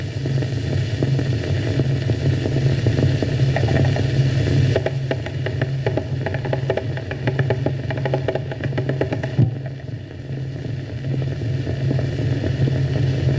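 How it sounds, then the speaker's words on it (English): A 1918 Ford car, hand-cranked with no electric starter, runs with a steady low engine rumble, then a burst of rapid rattling knocks follows as it pulls away and drives off, loud and close with no talking. "As the machine has no electric starter, he will have to crank it."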